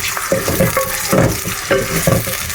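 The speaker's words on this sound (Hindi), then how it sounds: "प्याज को हम सौते कर लेंगे।" Two medium onions sauté in about half a bowl of oil in a pan, with a steady sizzle broken by repeated scraping and stirring strokes, close and fairly loud, no voices.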